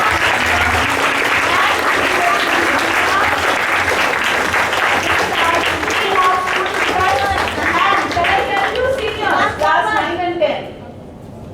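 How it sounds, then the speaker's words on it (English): Students at a class 10 Earth Day school assembly clap, loud and sustained applause from a crowd that breaks into scattered claps and then stops abruptly. "Clapping."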